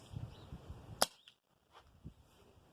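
A single sharp snap of an air pistol pellet striking a tree, brief and fairly close, followed by faint rustling in quiet outdoor surroundings.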